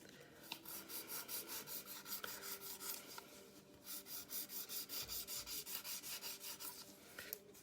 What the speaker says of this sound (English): just quick filing, just to make sure everything is nicely shaped